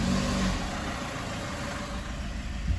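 A VW Golf with a DSG gearbox pulls away in drive, its engine giving a steady mid-pitched hum with a low rumble that stays even throughout, close and fairly loud with no talk.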